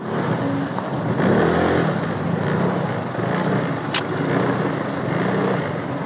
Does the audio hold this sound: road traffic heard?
yes